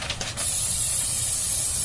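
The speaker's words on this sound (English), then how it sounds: "We need some cooking spray." Cooking spray hisses from an aerosol can onto a pan in a single steady burst lasting under two seconds, loud and close, with a faint voice at the very start.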